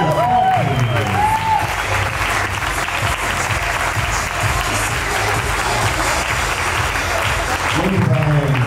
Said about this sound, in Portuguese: Palmas para Cândida Petri.